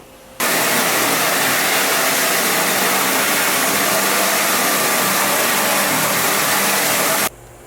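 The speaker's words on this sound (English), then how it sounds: "Take our pressure washer." A pressure washer rinses out a screen-printing screen with an unbroken, loud, close roar of spray. It starts abruptly, holds steady for about seven seconds, then cuts off, with no talking.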